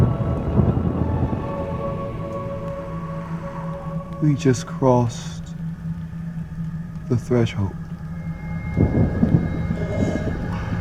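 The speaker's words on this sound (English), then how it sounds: "that thunder was the sound of the sacred timeline breaking up" Low rumbling thunder rolls beneath rain-like hiss while voices speak over it, the rumble swelling and fading across the stretch.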